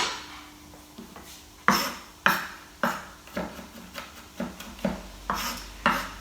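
A knife chops garlic finely on a board, a series of crisp, sharp knocks arriving unevenly, then settling into a steadier rhythm of about one cut every half second, close and moderately loud with no voices.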